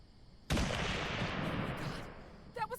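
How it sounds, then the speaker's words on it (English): A gunshot in the video game All Will Rise bursts out loud and sudden, then trails off over about a second and a half of rumbling echo. A brief voice follows near the end. "That was a gunshot."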